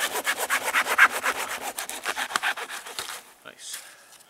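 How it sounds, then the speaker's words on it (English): Silky folding saw cutting through decayed wood in snowy bushcraft camp, a fast rhythmic series of rasping strokes, close and clear, that stops abruptly near the end. "this wood is pretty decayed, so it's not gonna be that big a deal to cut through it"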